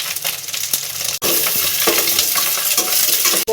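Onion, green chilli and turmeric sautéing in a pan, giving a loud, steady sizzle with scraping stirs and a few sharp clinks against the pan, close up and free of voices.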